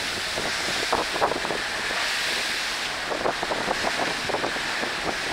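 Strong storm wind roars steadily across the microphone with the wash of rough sea beneath it, a constant loud blustery rush, at night in a Norwegian fjord.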